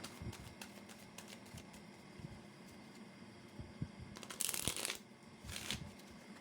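Soft, quiet tarot card shuffling with light riffling taps and a couple of brief, louder bursts of cards being flicked together.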